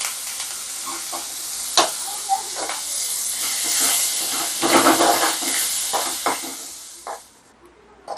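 Onions frying in a pan give a close, hissing sizzle that swells in the middle, with intermittent stirring knocks. The sizzle fades away just before the end.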